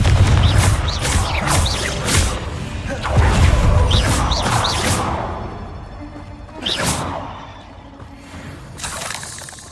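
Blasting Confringo spell explosions from a fantasy wizard video game, Hogwarts Legacy, a few loud booming bursts with whooshes and crashing debris, spaced across the clip against a busy combat background.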